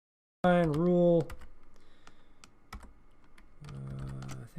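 Keyboard typing on a computer keyboard while configuring intrusion detection rules, a burst of close clicking following a brief hum-like tone, with steadier key taps resuming near the end under a faint voice.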